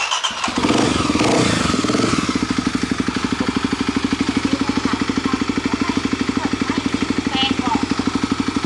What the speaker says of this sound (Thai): สามารถกดสตาร์ทที่รีโมทได้นะครับเดี๋ยวผมกดสตาร์ทให้ดู